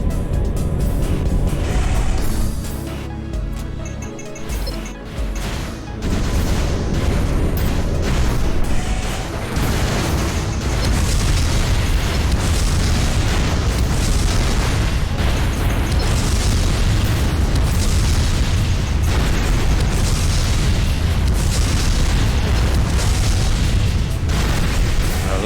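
Fuel tanks exploding in the Armored Core Nexus mech video game: a loud, sustained barrage of booming blasts and rumbling detonations that roll on without pause.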